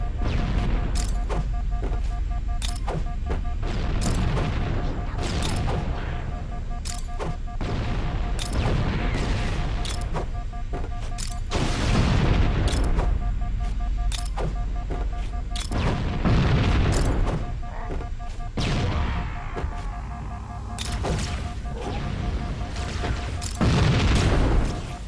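Grenade explosions in the game Halo: Combat Evolved, a run of heavy booms spread over the stretch, each with a deep rumbling tail, mixed with sharper bursts of weapon fire and brief lulls.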